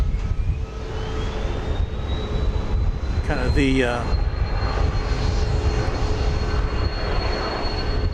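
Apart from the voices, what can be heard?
Hawaiian Airlines Boeing 717 jet aircraft engine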